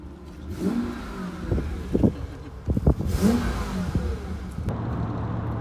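A BMW V12 engine revs in several sharp bursts, rising and falling in pitch, then settles into a steady idle rumble.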